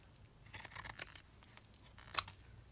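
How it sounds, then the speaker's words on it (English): Pinking scissors snip through paper while trimming a junk journal piece, giving a few quiet, close crunchy cuts in short bursts with one sharper snip near the end. "just using my pinking scissors."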